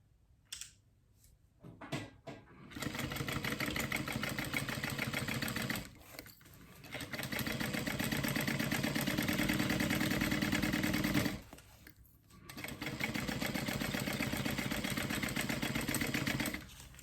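A sewing machine stitches a fold-over clutch a quarter inch from the edge in contrasting thread, running in three long, loud, fast-rattling bursts separated by brief pauses.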